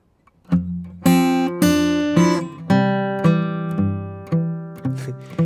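An acoustic guitar plays a steady alternating bass-and-strum pattern, plucked notes ringing clearly one after another in a relaxed rhythm, alone and up close.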